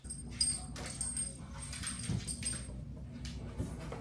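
A dog inside a cardboard moving box whimpers and yips softly in short, broken bursts, with scraping and shuffling against the box, fairly close and moderately quiet.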